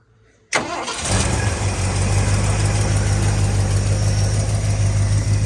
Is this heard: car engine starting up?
yes